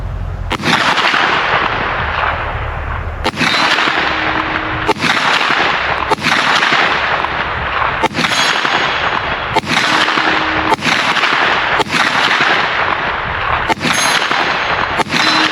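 Kel-Tec Sub2000 Gen 3 9mm carbine firing about ten loud, close shots at a steady, unhurried pace, each a sharp crack with a short ringing tail.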